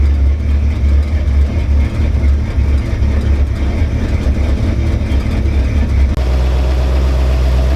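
A Dodge Dart engine idles smoothly at operating temperature after a heater core replacement, a steady low rumble close by, the tone shifting slightly near the end.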